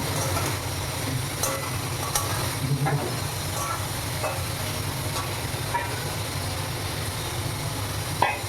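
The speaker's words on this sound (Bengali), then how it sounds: "এবার আমি এতে জল দিয়ে দেব।" Water poured into a sizzling pan of chilli chicken, giving a loud continuous steamy hiss with bubbling rumble underneath and a few scattered crackles, close and steady throughout.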